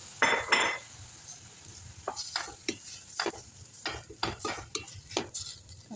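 A utensil stirs karsya in a sauté pan over a soft sizzle, giving irregular scraping and clinking strokes against the metal, fairly close and clear, with a louder burst near the start.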